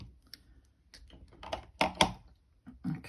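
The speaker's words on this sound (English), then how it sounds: "So I'm just going to cut that now with my cutters." Cutters snip jewelry wire in a few sharp, close clicks and snaps, scattered irregularly across a quiet moment.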